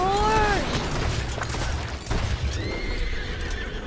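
A horse in a Wild West shooting video game gives a loud, close neigh with a descending whinny at the start, then a fainter second whinny later, over clip-clop hooves and rumbling game background noise.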